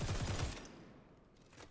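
Rapid automatic fire from an ACR assault rifle in the shooter game XDefiant, a dense burst of close, loud shots in the first half-second, then a fading tail with quieter rattle.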